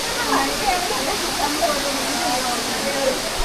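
Steady, broadband rush of Areeckal waterfall at Piravom, a continuous hissing roar of falling water throughout with no clear break.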